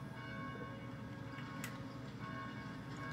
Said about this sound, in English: Please help us silence these bells.